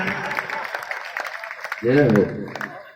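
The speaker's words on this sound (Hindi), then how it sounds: "जो दो हाथ लेकर दोनों हाथों से ताली बजाए" An audience claps along in quick, uneven bursts at a prabhat pheri gathering, the hand claps sounding close and crisp, with a voice briefly heard partway through.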